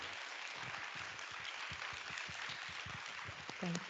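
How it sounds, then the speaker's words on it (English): Audience applause for a speaker at the close of a talk, faint and distant clapping with talk underneath and a brief voice near the end. "round of applause for Dr. Hoda Afshar."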